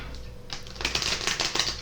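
Tarot cards being shuffled make a quick run of crisp, rapid clicks and flutters, close by and lasting under two seconds.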